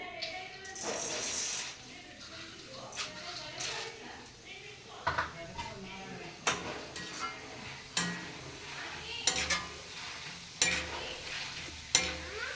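Roasted gram dal frying in oil for a snack mixture, a soft continuous sizzle under frequent clanking stirs and scrapes of a ladle against the pan, close up and moderately quiet.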